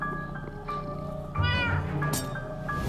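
A cat in the Minecraft: Story Mode game meows several times in quick succession, close and clear over a low background hum.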